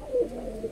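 Pigeons cooing close by, a low throaty coo swelling near the start and a softer one toward the end, with no talk over it.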